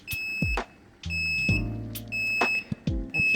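Repeated high electronic beeps from a Best-55 egg incubator sound at irregular intervals, with low mechanical thumps and hums between them, fairly close.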